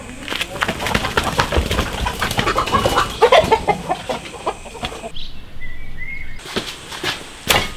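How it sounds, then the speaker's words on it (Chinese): Hens and a rooster cluck and call close by on a rural farm, in short bursts over steady background noise, with brief quiet gaps. "抓只老母鸡，给我锅炖汤。"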